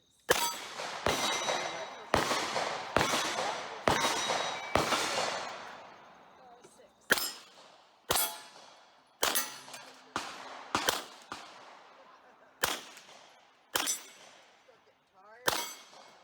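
Gunshots at a steel shooting competition ring sharply against metal targets, a quick run of loud cracks each followed by a bright clang and a fading ring, then more spaced shots, with people talking faintly between them.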